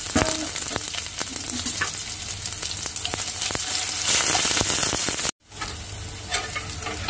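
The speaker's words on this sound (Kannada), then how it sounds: "ನೋಡಿ, ಇವಾಗ ಒಗ್ಗರಣೆ ಆಗಿದೆ." Mustard seeds, two chillies, curry leaves and onion tempering in hot ghee for a dill-leaf sambar: a loud, dense, close sizzle with stirring clatter that cuts out for a moment near the end, then resumes.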